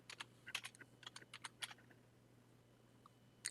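Quick, light keystrokes tap on a computer keyboard in an irregular burst, then go quiet before a final click. The clicks are faint and close against a low steady hum.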